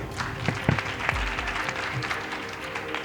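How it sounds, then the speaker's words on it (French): Scattered clapping from a small group at a school quiz competition, a few sharp claps over a steady patter of applause that continues throughout. "On peut les applaudir."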